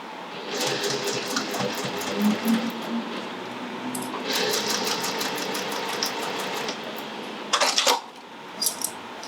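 A sewing machine runs a continuous stitching pass along the corner of a Marie tote bag, a steady close-up mechanical whir with a few small clinks and short bursts near the end.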